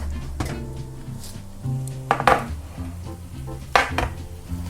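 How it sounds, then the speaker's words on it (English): A baking pan comes out of the oven in a home kitchen with a couple of sharp metallic clanks and thunks, close and moderately loud, separated by quieter handling noises. "I think we're good to take our other pan out"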